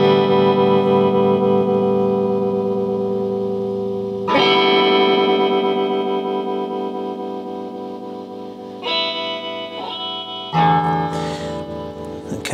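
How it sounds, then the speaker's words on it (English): Electric guitar chords ring through a restored 1964 black panel Fender Deluxe Reverb amplifier with its tremolo engaged, long sustained strums pulsing in volume, several new chords struck in turn, loud and alone. "Okay, so the tremolo works."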